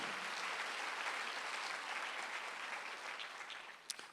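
Sustained applause from a church congregation during a Sunday worship service, a dense wash of clapping that gradually fades slightly toward the end.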